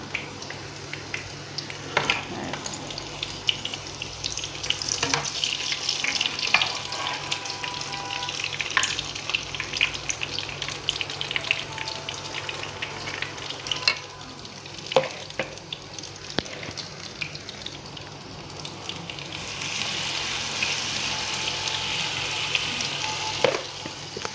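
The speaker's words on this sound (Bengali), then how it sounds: "এটি হয়েছে জয়তুন তেল দিয়ে ভাজি করছি আর এগুলো হয়েছে সয়াবিন তেল দিয়ে ভাজি" Fritters frying in olive oil and soybean oil, a steady close hiss and crackle of bubbling oil with occasional utensil clicks and stirring, lasting throughout with no talk.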